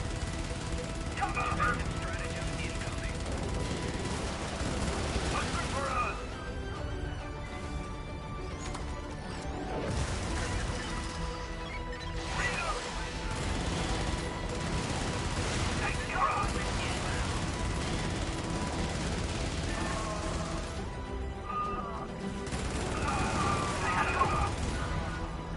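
Turret gunfire in the video game Helldivers, dense and continuous blasts and crashes filling the mix alongside game music, with players talking over the action.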